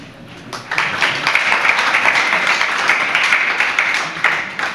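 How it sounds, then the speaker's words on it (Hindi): Sustained applause from an audience at a religious sermon, a steady crackling wash of many hands clapping that rises quickly after a quiet start and continues at even loudness to the end, with no talk over it. "जैसे आप लोग व्रत लेने के लिए तालियां बजा रही हो"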